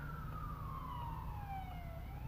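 A police car siren passes by, its wailing tone sweeping steadily downward as the vehicle goes past, loud and clear over low road rumble with no talk.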